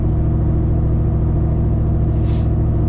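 A cammed GMT-800 truck cruises at night, its low engine rumble and steady tire roar droning continuously inside the cab, loud and unbroken throughout.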